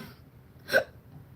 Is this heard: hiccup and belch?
yes